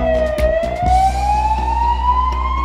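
A siren on a toy-like ambulance, one loud rising electronic wail with a few sharp knocks near the start, heard clearly with no talking.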